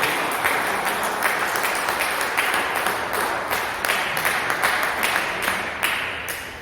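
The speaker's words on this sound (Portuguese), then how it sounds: "dê uma salva de palmas bem alegre para Jesus" A church congregation gives a joyful round of applause for Jesus during a worship service, dense rhythmic clapping filling the room steadily and fairly loud, with little talk.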